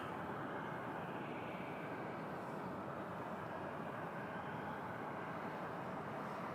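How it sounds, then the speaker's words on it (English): An Air Canada A321 from Edmonton lands at Toronto Pearson, a steady broad engine roar that holds at a constant level throughout, distant and unbroken. "Next to land on the northern runway is an A321 from Edmonton"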